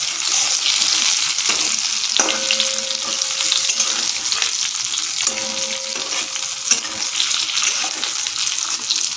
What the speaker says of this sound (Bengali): এবার এই সেদ্ধ করা আলুগুলোকে আমি একটু ভেজে নিচ্ছি